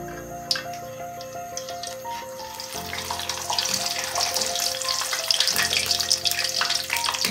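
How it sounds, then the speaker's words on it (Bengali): Cashew nuts deep-frying in hot oil give a steady, close sizzle and crackle that swells louder midway and runs continuously, with a faint low tonal hum underneath. "কাজু বাদামটাকে ভেজে নেব।"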